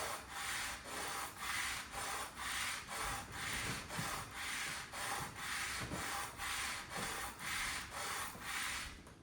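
A grinder blade is sharpened by rubbing it back and forth against an abrasive surface, producing a steady run of about a dozen even, rasping strokes in regular rhythm, close and alone.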